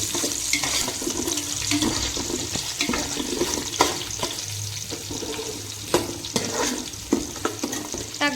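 Ingredients fry in hot oil for chicken biryani, a steady close sizzle with occasional clacks and scrapes of stirring running throughout, with no talking.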